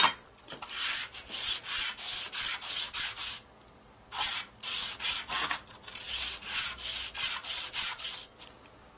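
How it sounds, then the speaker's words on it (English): Rapid rhythmic sanding strokes rasp over a powder-coated Kraus inverted fork tree stop on a Harley Dyna, in three quick bursts separated by short pauses, close and fairly loud. "It's starting to get where we can sand it."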